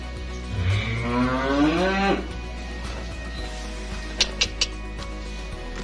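A Limousin calf at a livestock market gives one long, wavering moo up close, followed by a low steady hum and a few sharp clicks, with no talk.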